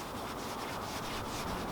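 G3 cutting compound being rubbed by hand into 30-year-old Yugo car paintwork, a soft, steady, close scrubbing hiss with a faint back-and-forth pulse and no speech.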